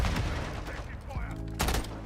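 Video game gunfire crackles in loud, rapid bursts of automatic shots, with a second heavy volley near the end.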